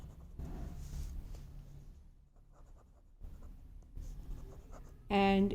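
Chalk or marker strokes on a board during a probability lecture, soft scratchy writing sounds in short bursts, with a brief louder tonal bump at the end and some quiet speech.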